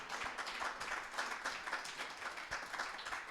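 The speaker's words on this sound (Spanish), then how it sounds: "Da un aplauso al Señor." A church congregation claps together after a call to praise, a fairly faint, steady patter of many hands lasting a few seconds with no talk over it.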